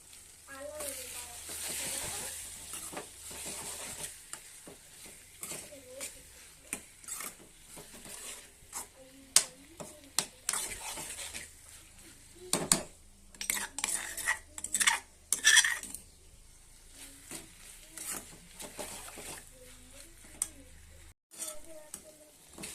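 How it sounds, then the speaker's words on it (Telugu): Eggplant frying with green chillies in a pan, a steady sizzle punctuated by the clatter and scrape of a spoon stirring against the metal, close and moderately loud with no talking. "వంకాయ పచ్చిమిర్చి కారంతో చేశాను కదా వంకాయ ఫ్రై చేశాను"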